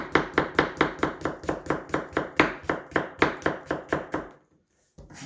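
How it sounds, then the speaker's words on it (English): A knife slicing potatoes on a cutting board, a steady run of about twenty close, crisp chops at a quick even rhythm, then a brief silence. "we're just about done here slicing up the potato"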